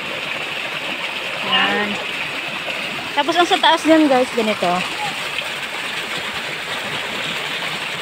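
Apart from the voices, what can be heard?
strong flowing spring water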